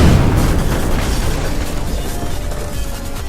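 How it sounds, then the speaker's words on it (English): A rocket launches and explodes in Minecraft, a loud deep rumbling boom that decays steadily over a few seconds with no speech. "Rocket launching sequence initiated."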